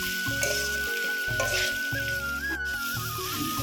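Jackfruit vegetable curry fries in a pan with a steady, dense sizzle, a loud continuous hiss with small bubbling pops and no voices.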